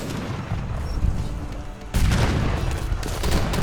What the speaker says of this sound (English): certainly this was a factory cannon that they sent out